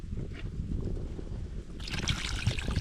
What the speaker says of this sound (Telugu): ఫుల్గా వాటర్ పోసుకొని